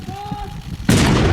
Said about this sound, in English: an artillery cannon was fired as a reenactment